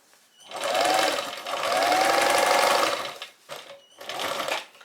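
Domestic sewing machine top stitching a fabric skirt waistband, running in two long whirring bursts and then two shorter ones with brief pauses between, close and clear.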